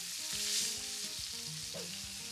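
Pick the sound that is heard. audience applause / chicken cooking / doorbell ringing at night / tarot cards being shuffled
chicken cooking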